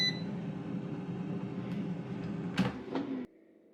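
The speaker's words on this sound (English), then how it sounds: "right now it's preheating the air fryer" An air fryer preheating before cooking eggs at 400 degrees: a steady, close fan whir and motor hum with a faint high tone, running evenly, then a couple of soft clicks before it cuts off abruptly into near-silence.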